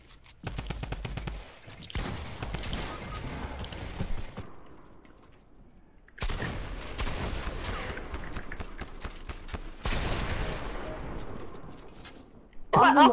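Rapid automatic gunfire from a video game, loud bursts of machine-gun-like shots in several sustained stretches with brief pauses between, ending in a sharper louder burst.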